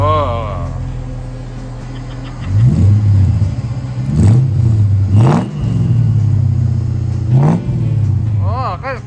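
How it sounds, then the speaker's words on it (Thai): A car engine idles, then revs up several times in quick rising bursts, close and loud, with some voices heard briefly at the start and end. "ไหนลองลองสตาร์ทเครื่องให้ฟังหน่อยได้ไหมฮะว่าใส่ยูซ่าแล้วเสียงมันยังเพราะอยู่นะ"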